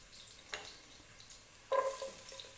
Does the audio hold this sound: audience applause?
no